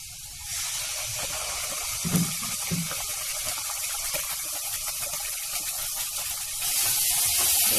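Chili powder, turmeric and ground coconut paste fry in a pan for an elephant foot yam bhaji, giving a steady, close sizzling hiss that swells slightly louder toward the end.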